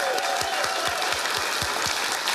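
A studio audience on a late-night comedy show applauds, loud and close, with a steady patter of claps and a few rhythmic thumps beneath.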